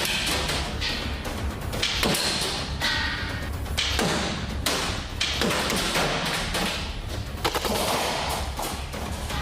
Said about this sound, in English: Next, I tested the firing experience of the newest electromagnetic launcher.